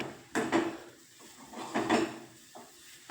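A spoon scraping and knocking inside a pot while semolina porridge with jaggery is stirred, giving a few separate clattering strokes with quiet pauses between them, close and fairly soft.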